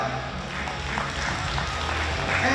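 Sustained crowd applause at a table tennis tournament, the ITTF Americas Cup women's singles quarterfinals, as a player is introduced; steady, moderately loud clapping from a hall audience throughout.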